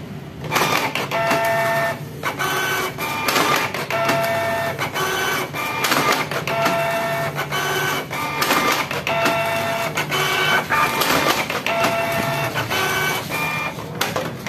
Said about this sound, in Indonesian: untuk porporasinya kita sistem cetak ya